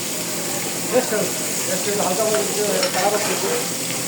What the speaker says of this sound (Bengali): কতক্ষণ সময় লাগে একটা মাছ ভাজতে?